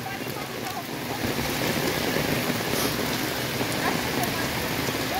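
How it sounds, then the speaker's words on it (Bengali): Heavy rain pours down in a dense, steady hiss, loud and continuous throughout. "এখনো ভরপুর বৃষ্টি আছে, ভরপুর অস্থির বৃষ্টি।"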